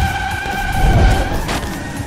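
The Firestorm car in the racing game Split/Second slides through a drift, engine whining steadily under a brief burst of tire noise and a rough thump, loud and close throughout.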